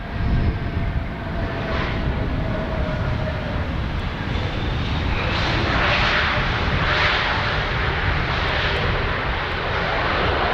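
A CASA C295 turboprop aircraft lands at Dublin Airport with a loud, continuous engine roar that swells and stays heavy throughout, heard alone without voices.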